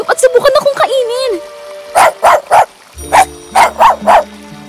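A pet dog in an animated Filipino fairy-tale barks in two quick bursts of three or four sharp yaps, close and loud, just after a brief voice and whine-like sounds.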